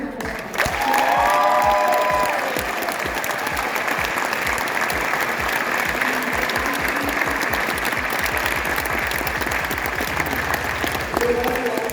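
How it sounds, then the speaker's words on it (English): A large audience at a university pageant event claps in a sustained round of applause, dense and steady for the whole stretch, with scattered cheers and voices mixed into the crowd noise. "Please give them a huge round of applause"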